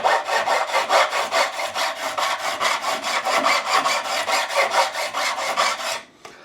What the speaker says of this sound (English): I will finish off removing any extra burrs